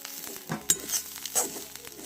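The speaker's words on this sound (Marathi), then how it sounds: "खोबरं पण झालं भाजून" Grated coconut dry-roasting in a kadai over a wood-fired chulha, a soft crackling sizzle with scraping stirs and a few light metallic clinks.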